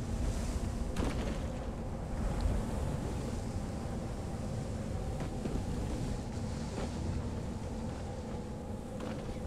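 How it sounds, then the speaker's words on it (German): Steady roaring sandstorm wind on a desert planet in the Astroneer video game, a dense continuous rushing noise with a few faint thumps, and no voices. "Wahrscheinlich alle paar Minuten so ein Sturm."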